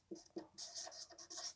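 Chalk or marker writing a number on a classroom board: a quick run of short scratchy strokes, close and fairly faint, with no talking.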